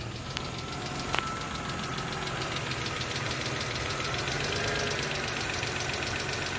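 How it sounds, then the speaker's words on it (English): A 2003 Lexus ES300 with a no-power fault idles rough and unevenly, its engine knocking and shaking in a steady low drone that holds close and continuous for several seconds, with a couple of faint clicks early on and no talking. "Y'all hear the change in the engine?"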